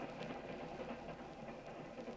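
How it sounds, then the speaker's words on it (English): A train rolling along the rails, a steady rumbling clatter with a soft rhythmic beat held at low, even loudness throughout, serving as a radio drama effect. "listened to the rhythm of the train"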